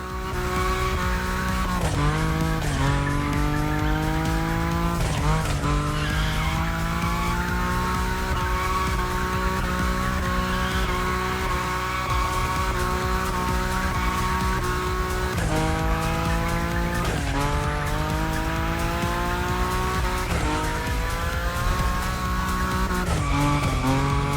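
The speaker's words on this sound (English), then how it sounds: "Your Nismo is powerful enough to slide along on its own when you're at high speed, so don't be afraid to keep your foot on the gas." A powerful Nissan Nismo drifts at high speed in The Crew Motorfest racing game, its engine droning loudly as tires squeal in long, repeated slides with gear shifts between them, no talking.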